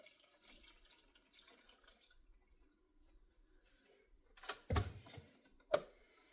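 Hot water from a DIY hot water setup spurts from a tap in a few sudden splashing bursts after a mostly quiet stretch, close by and fairly loud.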